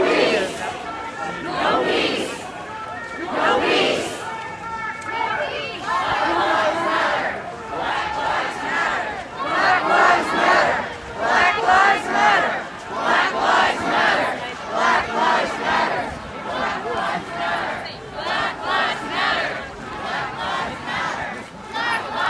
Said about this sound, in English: All right, the crowd is now leaving the MLK Center,